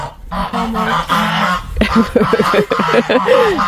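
Geese honk loudly and close by, a series of harsh nasal calls overlapping one another, with some voices mixed in.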